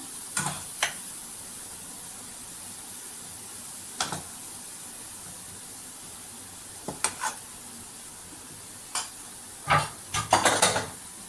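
Rice being stirred into a raw banana masala in a pan, with a few scattered, sharp spoon scrapes and clinks against the vessel amid a faint sizzle, the stirring clustering more densely toward the end.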